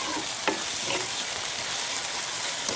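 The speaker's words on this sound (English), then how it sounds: "So my pot is already hot and I'm adding everything at once." Ingredients for aloo pies hit an already hot pot all at once, giving a loud, dense, continuous sizzle with a few stirring scrapes, close up and without talk.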